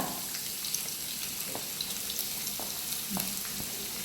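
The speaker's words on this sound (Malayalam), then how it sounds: "അതിലിങ്ങനെ നന്നായിട്ട് വെളിച്ചെണ്ണയൊക്കെ ഒഴിച്ചിട്ട് നമുക്ക് ഇതിനകത്തേക്ക് കുറച്ച് സവാള ഇട്ട്" Sliced onions sizzle steadily in coconut oil in a pan on a Kerala home stove, a continuous close frying hiss with a few soft stirring clicks and no talking.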